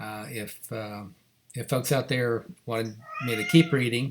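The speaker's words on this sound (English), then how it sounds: "that's my cat, Yazzie, meowing" A pet cat named Yazzie meows indoors, brief and close, in the gaps between and under a man reading a book aloud.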